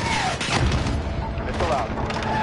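Heavy gunfire and booming blasts on a building in the Modern Warfare video game, a dense continuous roar of battle noise with voices shouting over it.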